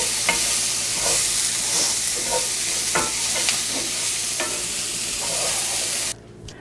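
Vegetables sizzle and cook down in a pan with steady frying crackle and occasional stirring scrapes, continuous and close, cutting off abruptly near the end.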